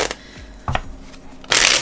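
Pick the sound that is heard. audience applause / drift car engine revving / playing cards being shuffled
playing cards being shuffled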